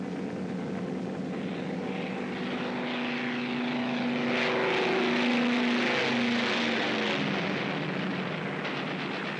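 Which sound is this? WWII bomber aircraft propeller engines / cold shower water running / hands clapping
WWII bomber aircraft propeller engines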